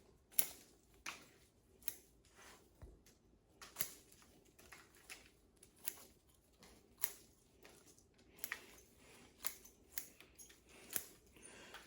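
Pruning shears snip branches on a raft-style trident maple, a series of crisp, soft cuts spaced irregularly over several seconds, close by and quiet, with no talking.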